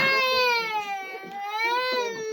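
A baby wails loudly and close, a sustained high crying tone that rises and falls with brief catches of breath.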